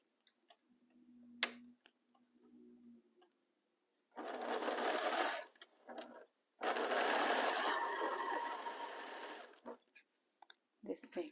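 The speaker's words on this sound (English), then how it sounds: "I'm going to line here my fabric and start sewing" A sewing machine stitches fabric for a star-variation quilt in two sustained bursts of rapid mechanical whirring, with a few small clicks and handling noises in the quieter gaps.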